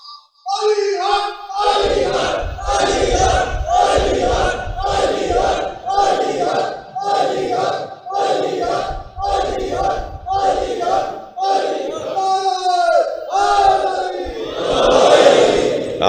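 A large gathering at an Urdu religious majlis with a cleric chants slogans in repeated, rhythmic collective shouts, loud and close, nearly a dozen bursts in steady succession with a bigger roar at the end.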